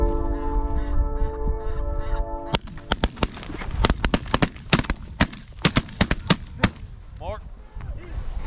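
Geese fly overhead during a waterfowl hunt in a North Dakota blizzard, their honking calls faint and scattered among sharp clicks and bursts of wind noise, with hunters' voices nearby.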